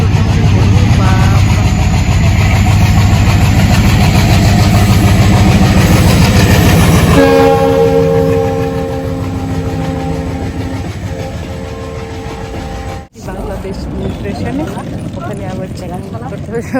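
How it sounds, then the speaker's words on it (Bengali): A train crossing from Bangladesh into India rumbles loudly past close by, a heavy, steady roar that eases into a lower engine drone as it moves on, with voices in the background. "বাংলাদেশ থেকে ইন্ডিয়ার ট্রেন ঢুকছে"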